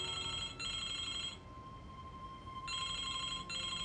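A telephone rings in the Baphomets Fluch 2 video game, giving two bursts of a bright electronic ring with a pause between them, clear and close, with no talking.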